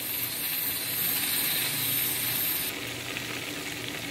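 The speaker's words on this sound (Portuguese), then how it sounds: "Saiu a pressão da panela, eu vou abrir a panela." Loud, steady hiss of steam escaping a pressure cooker used to cook fish, dropping slightly in pitch partway through, with no talking.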